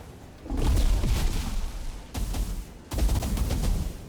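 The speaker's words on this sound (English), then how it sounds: "Once we fire following the hit, we'll hear like several little smaller explosions" Bursts of crackling, booming fire from a fire staff in Valheim come in two long rolling volleys separated by brief pauses, dense and loud like a string of small explosions.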